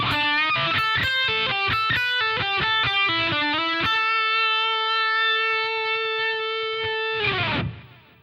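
Distorted electric guitar plays a quick solo lick of rapid picked notes, then holds one long sustained note before cutting off, loud and alone without any talking.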